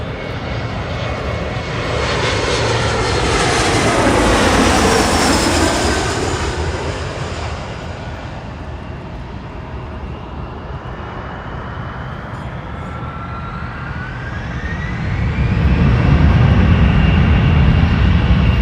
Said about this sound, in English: we have an Embraer 175 LR Delta connection